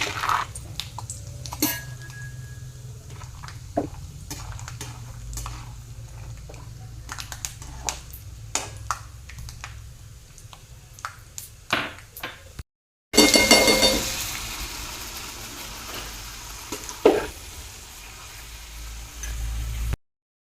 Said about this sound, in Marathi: थोडे शेंगदाणे आपल्याला तळून घ्यायचे तेलामध्ये